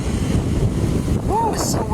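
Wind buffets the microphone in a constant low rumble, with a brief faint voice-like sweep partway through.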